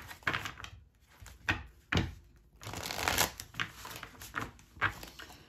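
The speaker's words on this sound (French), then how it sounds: "Je vais bien mélanger mes cartes. Je reprends le même tarot." Tarot cards are shuffled by hand in quick close riffles and slaps, a run of crisp papery bursts with brief pauses between them.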